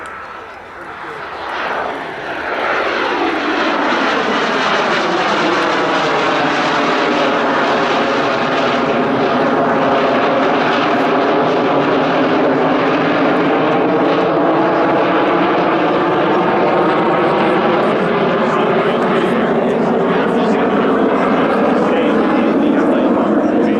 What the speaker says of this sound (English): give you a chance to hear the Me-262